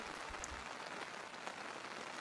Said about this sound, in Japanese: 今宵、雨が降る。